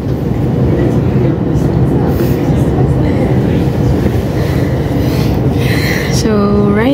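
Steady rumble of a moving train carriage heading to Zaandam, loud and continuous throughout, with faint voices beneath and a brief rising tone near the end.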